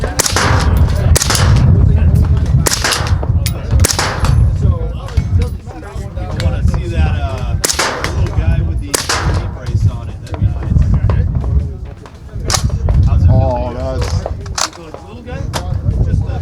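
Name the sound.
rifle shots fired at a shooting range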